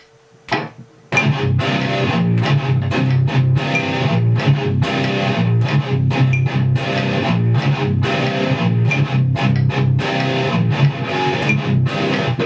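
Distorted electric guitar chugs through a palm-muted riff alongside a metronome, loud and dense with rapid syncopated attacks after a brief quiet lead-in, no talking.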